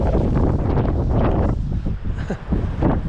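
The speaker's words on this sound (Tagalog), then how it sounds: "Yan talaga namang napakalakas ng ano. Hangin." Strong wind buffets the microphone in a loud, continuous low rumble with gusty surges, briefly easing near the middle before roaring back.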